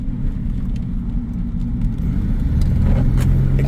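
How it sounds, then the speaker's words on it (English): Car engine pulling under light throttle through a curve while driving without power steering, a steady low rumble and road noise with a slight rise in revs toward the end. "I was going around a curve and then I laid into the throttle a little bit, just checking traction"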